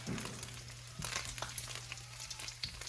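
Bacon fries steadily in a pan, a continuous close crackle and sizzle with scattered sharper pops, and a low steady hum beneath, no voices.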